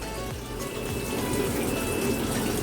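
Hisense 8 kg top-loader washing machine filling with water for its rinse cycle, a steady close gush and splash of incoming water that grows slightly louder, with no voices.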